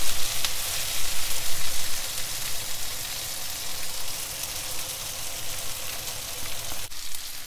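Shrimp sizzle and fry in a hot pan with black pepper, a steady, loud crackling hiss that continues throughout with a brief dip near the end.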